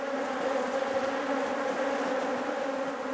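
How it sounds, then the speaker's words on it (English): Dense, steady buzzing of many honey bees close by at a hive entrance fitted with a pollen trap, a continuous droning hum with no other sounds. "You can see the bees are now starting to come in with pollen"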